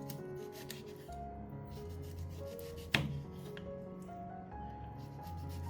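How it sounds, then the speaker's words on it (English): Lemon peel is chopped finely with a knife, giving soft rapid rasping cuts on a board with one sharper knock, quiet and close under a steady background music bed, with no voices. "I will finely chop the peel of a lemon like this."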